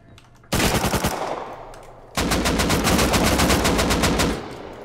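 Automatic AK rifle fire in the video game Rust, loud rapid bursts: one burst of about a second and a half, a short gap, then a longer sustained stream of shots for over two seconds before cutting off.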